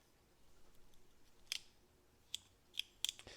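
A new scissors-like cutting tool snips four times in the second half, sharp and close against a quiet background, the last two cuts coming quickly together.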